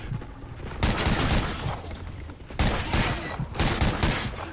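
Gunfire in the video game Call of Duty: Ghosts Extinction, loud sustained volleys of automatic shots in two long bursts separated by a short pause, with no talk.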